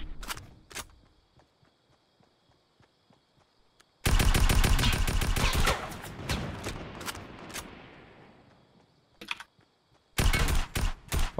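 Rapid automatic gunfire from Fortnite rattles in long close bursts, first a few isolated shots, then a dense sustained volley of several seconds, tapering off before another sharp burst near the end, with no talking.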